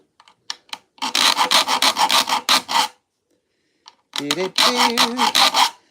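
A file rasps across the teeth of a handsaw to sharpen them, in two bursts of rapid back-and-forth strokes separated by a pause, close and loud, with brief talk in between.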